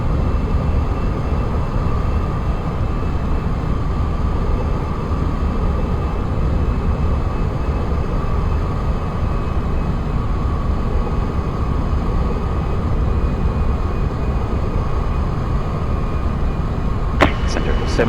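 A Turkish Airlines Boeing 787-9 Dreamliner taking off at Jakarta makes a continuous, heavy jet roar that stays steady and loud throughout, with a couple of brief clicks at the very end.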